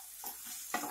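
A spoon stirs dal khichdi with kasuri methi and coriander, a couple of soft scraping strokes over a faint sizzle, brief and close.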